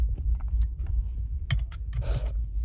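A wrench works on a John Deere 7000 planter, tightening a chain tensioner, with scattered metallic clicks, scrapes and a short grinding rasp near the end over a low rumbling background.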